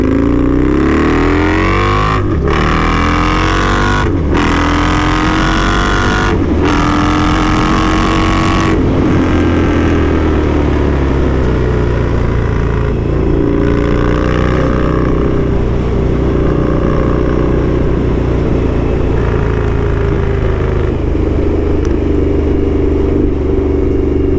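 An Indian Scout Street Hooligan motorcycle by Krazy Horse being ridden, its loud engine revving up through several gear changes and then droning steadily at speed, close and continuous throughout.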